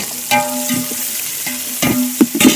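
Onions fry in a pan for chicken biryani cooked outdoors, giving a close, loud sizzle broken by several sharp scraping stir strokes, with no voices.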